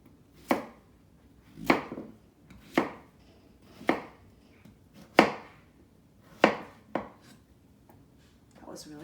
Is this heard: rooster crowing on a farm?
no